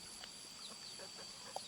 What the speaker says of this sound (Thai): ดูไก่